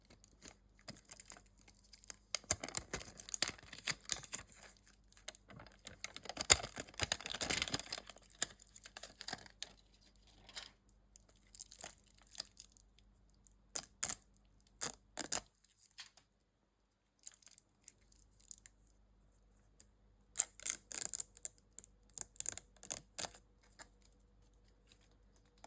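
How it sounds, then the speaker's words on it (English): Crinkling and rustling of packaging as a G-Shock GMW-B5000TCC titanium circuit camo watch is unwrapped, in close, quiet bursts of crisp crackles separated by near-silent pauses. "So, I'll unwrap this watch."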